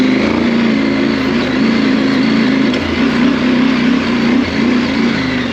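A motorbike engine drones loud and close while riding across hard-packed desert sand, a steady buzzing roar with slight surges in pitch and no talking over it.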